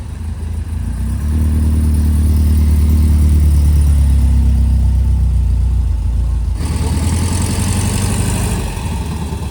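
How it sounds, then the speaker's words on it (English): A Ferrari 849 Testarossa rolls past at a concours event, its engine a loud, close, low burbling drone that swells and then shifts to a rougher, clattering tone as it moves away. "being followed by the 849 Testarossa from Ferrari"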